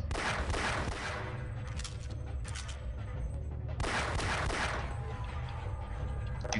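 Automated turret gunfire in the Half-Life video game, two long sustained bursts of rapid shots separated by a brief pause, loud and dense throughout.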